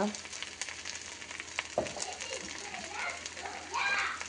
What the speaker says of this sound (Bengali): এগুলি সব ভালোভাবে দিয়ে কষাতে হবে